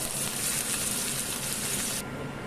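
Diced onion frying in a pan for chicken-breast bitki gives a dense, steady sizzle, close and even throughout, with no voices.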